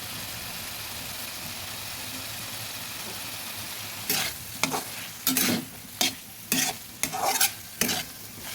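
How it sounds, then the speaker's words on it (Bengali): Fried potatoes being stirred with spices in a pan for prawn curry: a low background hiss, then a run of loud, close scraping strokes in an irregular rhythm. "আলুগুলো ভালোভাবে নেড়ে মশলার সঙ্গে মিশিয়ে দিচ্ছি।"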